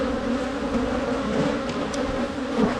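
Honey bees buzz in a dense, steady drone during a weekly hive inspection, loud and close, with the swarm sound holding continuously.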